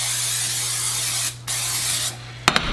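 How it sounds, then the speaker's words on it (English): Two bursts of cooking spray hiss close up onto a pan on high heat, separated by a short pause, followed by a couple of small clicks. "First thing you're gonna wanna do is obviously spray the pan."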